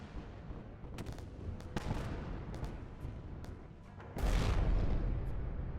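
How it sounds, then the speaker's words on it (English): Distant booming cannon fire in the space game Wayward Terran Frontier. Several muffled shots over a steady rumbling drone give way to a louder sustained roar near the end. "One well-placed odd millimeter cannon shot."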